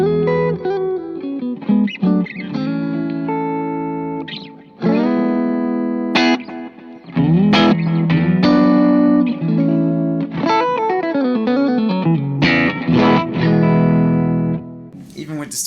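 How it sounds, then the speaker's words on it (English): Loud distorted electric guitar playing chords and melodic runs, with a couple of brief pauses between phrases. "Even with distortion, it sounds killer."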